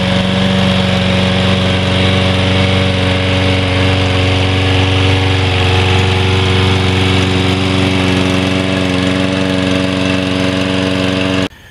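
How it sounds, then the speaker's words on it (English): A lawn mower engine runs loud and close at a constant, even idle-like drone with a strong buzzing hum, holding unchanged for nearly twelve seconds before cutting off abruptly at the end. "Nice lawnmower here."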